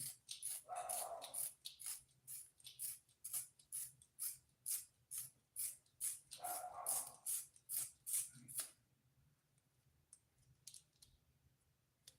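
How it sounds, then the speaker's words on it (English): A neighbor's dog barking repeatedly in a steady, regular rhythm of sharp barks, fairly faint and distant, with a couple of louder yelps mixed in before the barking stops and the place goes quiet. "Can you guys hear my neighbor's dog barking?"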